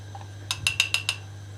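Metal tablespoon scooping starch into a glass, about five quick bright clinks in a short rhythmic run, close and clear over a low steady hum, no talk.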